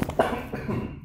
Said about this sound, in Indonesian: Lu batuk sih.